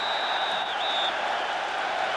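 Large football stadium crowd at Ajax v Rangers roaring steadily in a dense, continuous wash of cheering, with a faint whistle-like tone near the start.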